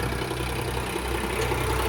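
New Holland 3230 tractor engine idling: a steady, even low rumble at close range, holding constant with no talk over it.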